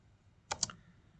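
Computer keyboard keys tapped twice in quick succession during Photoshop work, two short crisp clicks close together against a quiet room hum.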